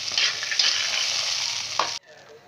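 A curry base for Ghanta Tarakari, an Odia vegetable curry, fries in a pan with a loud, bright, continuous sizzle and a soft stirring scrape, then cuts off abruptly to quiet.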